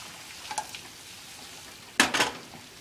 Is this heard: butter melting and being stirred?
yes